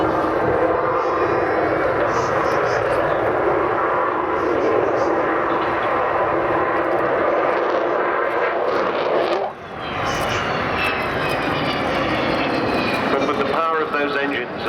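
Avro Vulcan bomber XH558, a delta-wing jet bomber, accelerating down the runway at an airshow: a loud, continuous roar of its jet engines that swells and shifts in pitch midway, with crowd noise underneath.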